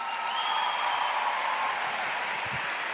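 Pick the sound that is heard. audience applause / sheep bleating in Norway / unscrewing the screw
audience applause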